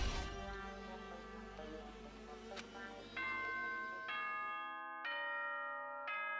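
Monokuma's announcement chime in Danganronpa 2 rings out as a clear sequence of four bright bell-like tones, each stepping in after the last and sustaining over a fading musical background.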